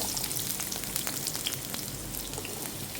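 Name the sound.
onion and garlic frying in sunflower oil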